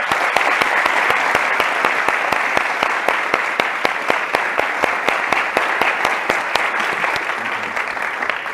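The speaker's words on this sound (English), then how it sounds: "Let's welcome Mr. Brian Smith to the stage with warm applause" Sustained applause from a large audience at a corporate product launch event, steady dense clapping that continues loud and unbroken throughout.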